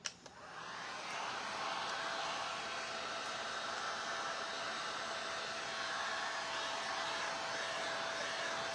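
A hair dryer blows steadily on a decoupaged cutting board, starting with a brief click and then holding a constant, close whooshing roar with a faint whine for the rest of the stretch.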